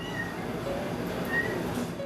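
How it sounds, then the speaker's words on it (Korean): A second cat meows from somewhere above a café, heard as a couple of brief, thin calls over steady background noise with no talking. "이건 다른 고양이 소리."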